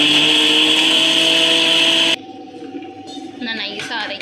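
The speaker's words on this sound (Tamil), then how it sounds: "இதை வந்து மிக்சியில் ஜார் போட்டு அரைச்சிடலாம்" A mixer grinder jar loudly grinds ingredients for Palakkad-style molagootal, a steady dense whine lasting about two seconds before cutting off abruptly into quieter kitchen clatter.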